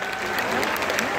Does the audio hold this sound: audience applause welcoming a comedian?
yes